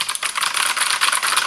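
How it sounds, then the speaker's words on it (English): Rapid, bright clicking of typing on a Silvercrest semi-mechanical gaming keyboard with backlight, dense overlapping keystrokes for under two seconds, close and fairly loud with no voices. "It is so easy to type and I like the clicks."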